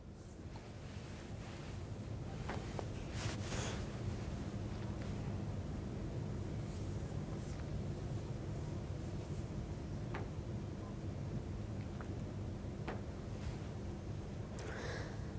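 Floodwater rushes steadily during heavy monsoon rain flooding in Rajgarh, Madhya Pradesh, a continuous broadband roar with wind buffeting the microphone, even and unbroken throughout.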